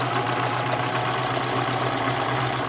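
A sewing machine stitches fabric for a DIY backpacking lounger, a steady, close motor hum with an even buzzing drone that stays constant throughout.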